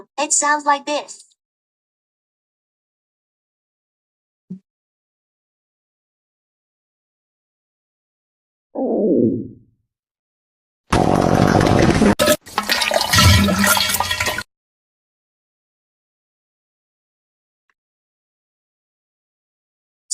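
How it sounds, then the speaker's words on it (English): A stomach growling, farting and diarrhea sound effect: a brief spoken phrase comes first, then after a pause a low gurgling swoop, followed by two loud, wet, sputtering bursts lasting a few seconds. "the stomach growling, farting, and diarrhea sound effect"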